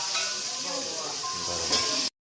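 Hot oil tempering for dal hisses and sizzles in a steady close burst, briefly flaring louder near the end before cutting off abruptly.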